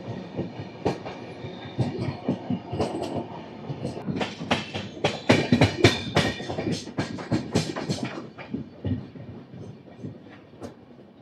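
The Satavahana Superfast Express (12713, Vijayawada to Secunderabad) runs on the tracks near Dornakal Junction, a loud rhythmic clickety-clack of wheels on rail joints that swells in the middle and fades slightly toward the end.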